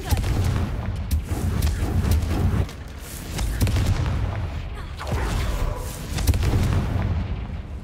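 Repeated booming blasts from the Confringo fire spell in the video game Hogwarts Legacy, several heavy explosions with rumbling tails under game sound.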